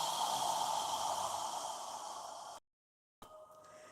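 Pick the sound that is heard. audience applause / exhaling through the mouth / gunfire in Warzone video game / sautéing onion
exhaling through the mouth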